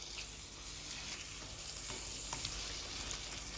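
Chicken frying in a pan on medium-low heat gives a steady, even sizzle throughout, close but fairly quiet, with a faint tap or two of stirring.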